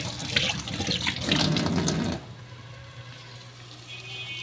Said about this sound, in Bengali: এদিকে আমি হাতটা একটু ধুয়ে নিই।